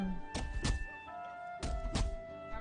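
In a video game, a cart tips over with two pairs of dull, hollow thunks that land close together, over a soft, steady game background tone.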